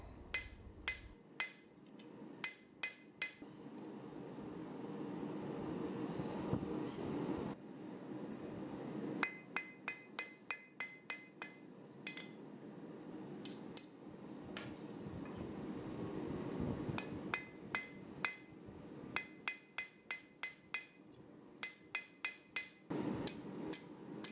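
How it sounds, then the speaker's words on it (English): A hammer forges a kiridashi knife blade on an anvil, ringing in quick clusters of sharp metallic strikes separated by pauses, moderately close, with a low background hum. "I used the horn of the anvil to put a notch that would separate the blade from the handle"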